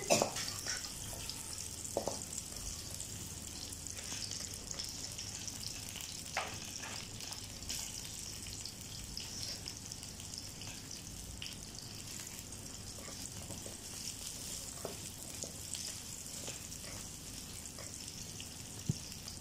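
Green chilies and chopped onion fry in a pan, giving a steady, continuous sizzle with light crackles and occasional stirring clinks, close and fairly quiet, with no talking.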